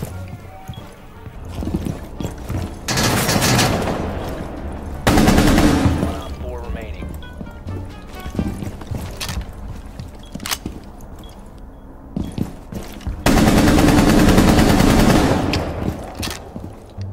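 Gunfire in Rainbow Six Siege comes in several heavy bursts of rapid automatic shots, loud and close, separated by quieter stretches of scattered single shots and game noise.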